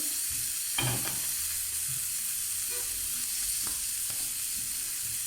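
Anchovies fry in a pan of oil, a steady bright hiss of sizzling with a few soft clicks and taps of utensils, close-up and continuous with no voices.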